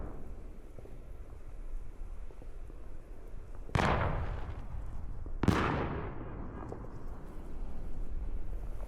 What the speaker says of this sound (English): once the fireworks lit up the entire neighborhood, pure video does a great job being able to capture that